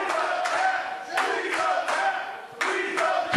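Wrestling crowd at an indie RWA Next Level taping chanting in unison during a crossface submission hold, a dense roar of many voices rising and falling in repeated rhythmic bursts.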